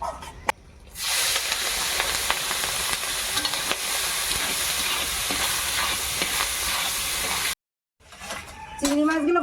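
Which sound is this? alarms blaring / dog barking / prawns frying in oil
prawns frying in oil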